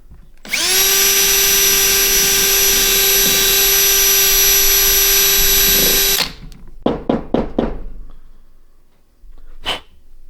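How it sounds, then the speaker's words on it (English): A power drill fitted with a steel wool tip whirs at a steady high pitch for about six seconds while cleaning out golf club ferrules, then stops, followed by a few short sharp bursts and clatter. "we're going to take this drill with what is like a steel, kind of like I guess a steel wool tip on it"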